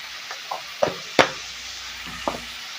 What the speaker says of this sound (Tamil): போட்டு நல்லா வதக்கி விட்டுக்கோங்க